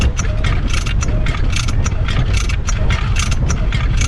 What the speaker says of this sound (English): This is just priming the motor a little bit.